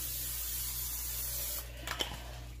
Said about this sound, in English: Now what I'm going to do is spray it again, liberally.